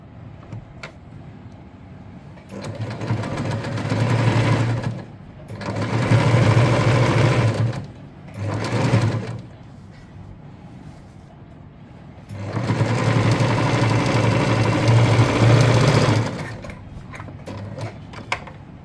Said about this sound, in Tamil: சோ அதை நம்ம வந்து இப்போ ஸ்டிட்ச் பண்ணி எடுத்துக்கலாம்